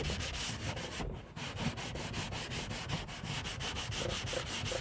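A special cleaning cloth with holes scrubs loose dirt off a surface without soap, making a loud, continuous, rapid rasping rub up close with only a brief pause near the start.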